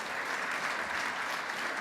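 An audience claps steadily and loudly at a political talk event, a dense, even wash of applause with no break and no voices on top.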